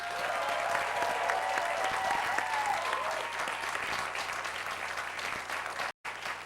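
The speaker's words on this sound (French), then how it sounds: "Et vous allez pouvoir applaudir comme des fous!" Sustained studio audience applause on a Quebec television talk show, loud and dense throughout, with a brief dropout near the end before the clapping resumes.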